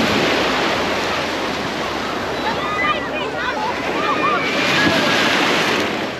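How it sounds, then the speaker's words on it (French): Ocean surf rolling and breaking continuously on a beach in Tunisia, with wind buffeting the microphone and some faint higher chirps mixed into the roar. "Les vagues sont parfaites."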